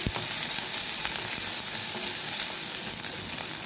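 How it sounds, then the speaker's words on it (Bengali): Green chillies, along with a little ginger and garlic, sizzle steadily in hot oil in a village kitchen, a dense close crackle with occasional stirring and no talk. "একটু কাঁচা লঙ্কা তেলে দিয়ে দেবো। একটুখানি ভেজে নেবো এটা।"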